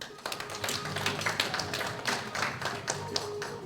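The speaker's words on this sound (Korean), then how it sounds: "다시 한번 큰 박수 부탁드리겠습니다" Applause from a lecture audience, scattered hand claps forming a steady patter throughout, moderately loud and close with no speech over it.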